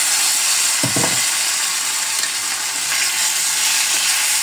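Raw plantain pieces, first fried with salt in mustard oil, go back into a hot pan. A steady loud sizzle runs throughout, with a short clatter near the start as the pieces drop in.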